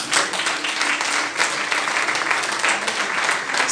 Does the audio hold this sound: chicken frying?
no